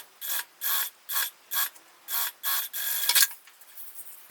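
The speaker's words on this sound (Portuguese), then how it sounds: "Agora sim, máquina adaptada para sintético, bora costurar." A sewing machine set up for synthetic fabric runs in about seven short, even bursts of rapid mechanical stitching, close and clear, followed by a longer run and quieter handling at the end.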